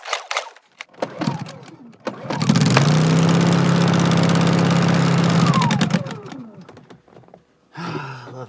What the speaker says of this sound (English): I love this generator.